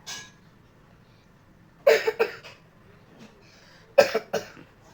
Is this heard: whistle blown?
no